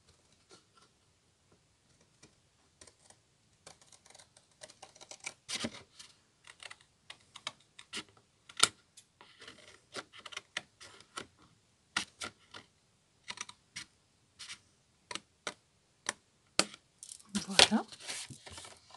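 Scissors snipping through a folded paper card in short, uneven bursts, with quiet pauses between crisp clicks and a denser flurry of cuts near the end.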